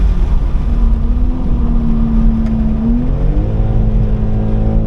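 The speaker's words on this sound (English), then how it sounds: "Okay, up the gear, went down one too many. Full throttle up here." A 2023 BMW M2 G87 engine at full throttle on a race track, a loud steady drone that climbs in pitch as the revs build, close and continuous with no talk over it.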